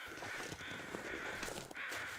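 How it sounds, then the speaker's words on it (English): Several crows caw repeatedly in the wintry wilderness of The Long Dark video game, the harsh calls faint and distant over a soft ambient hiss. "Oh, there's birds right there."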